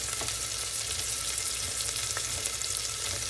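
Onions fry in a pan with a dense, continuous sizzle and faint popping, steady and close throughout with no talking.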